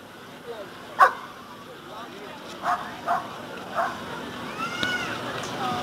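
A shepherd dog in training gives a handful of sharp, spaced barks and yips with a whimpering note, fairly close, over a quiet outdoor background with a voice nearby.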